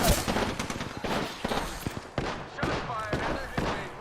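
Rapid bursts of video game gunfire crack loudly and repeatedly over several seconds, dense and overlapping with a busy game soundscape, while a voice speaks briefly underneath.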